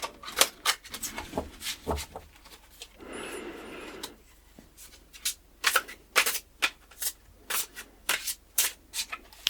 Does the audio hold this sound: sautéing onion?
no